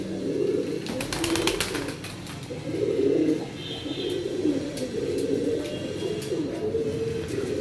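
Several teddy pigeons in a loft give low, rolling coos that rise and fall in overlapping bursts, close and steady, with a brief patter of scratching near the start.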